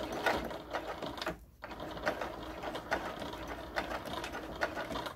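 Sewing machine stitching back and forth through a quilted oven mitt, a steady close mechanical whir with rapid rhythmic clatter, briefly pausing midway before resuming.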